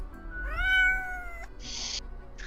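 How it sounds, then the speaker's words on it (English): A single drawn-out cat meow from the video game Death and Taxes, clear and close, followed by short hissy bursts of noise. "The cat meows"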